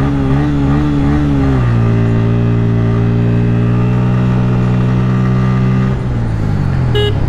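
Bajaj Pulsar N160 motorcycle with a 160cc engine runs loud and close, its steady idle hum stepping into a smooth, sustained engine note before dropping back near the end; no talking.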